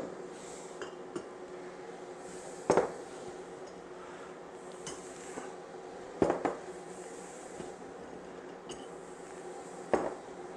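Hot canning jars lifted from a pot with oven mitts and set down, giving three clear glassy clinks and knocks spaced a few seconds apart over a quiet kitchen background.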